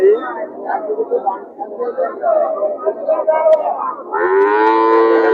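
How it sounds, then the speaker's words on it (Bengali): Deep calf moos ring out close by amid a busy cattle market at Chuknagar, with voices chattering throughout and a long, loud low at the end. "এবার আছে আমরা বাসুর গরুর সাইডে বাসুর গরুগুলো আপনাদের দেখায়"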